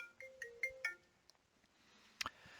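A mobile phone ringtone plays a few short melodic beeps close by in a quiet room, followed by a pause and then a brief second burst of tones.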